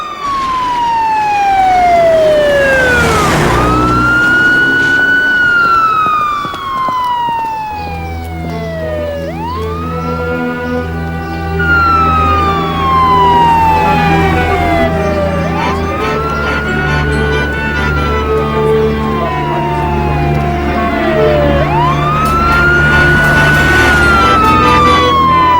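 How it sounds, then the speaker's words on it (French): A police car siren wails loud and steady, sweeping up and down in long repeating cycles over a low engine rumble. "C'est une sirène, vous entendez?"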